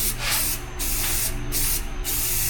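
Rust-Oleum high heat semi-gloss silver spray paint is sprayed onto a Workhorse Vortec 7.4 engine in several close, hissing bursts separated by brief pauses.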